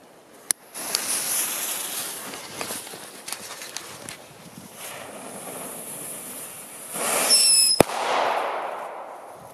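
Outdoor German firecrackers go off one after another, including one that gives a short whistle, a Bengal-fire burn and a bang, with sharp loud bangs near the start and end, a crackling burn between, and scattered faint pops in the background.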